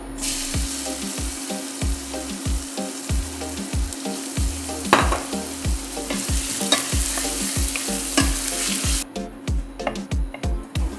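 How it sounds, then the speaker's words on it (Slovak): Chopped onion sizzles steadily in olive oil in a pan while a spoon stirs it in rhythmic scraping strokes, close and continuous for the whole stretch, with no one speaking. "cibuľka sa nám pekne pomaly zafarbuje"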